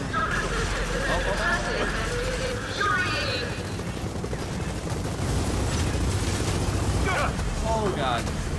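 Rocket blasts and heavy gunfire rumble continuously through a Gears of War 4 battle, with a dense, loud roar of explosions throughout and people talking over the din.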